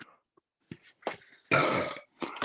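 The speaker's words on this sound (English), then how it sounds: "Yeah, that was my burp." A loud, rough burp lasting about half a second, preceded by a few quiet vocal sounds and followed by brief voices.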